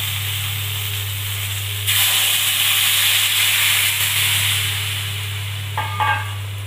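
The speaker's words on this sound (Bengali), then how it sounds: "নেড়ে নিচ্ছি।" Shrimp and vegetable curry with tamarind water being stirred in a pan on a village kitchen stove, giving a steady close hiss and sizzle over a low hum, with a few soft scraping clinks near the end.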